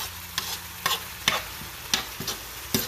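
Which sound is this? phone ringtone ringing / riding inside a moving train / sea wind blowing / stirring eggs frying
stirring eggs frying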